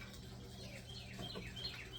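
Birds chirp outdoors in a garden, with faint, thin tweets rising over a steady background hum and what may be a bubbling fountain.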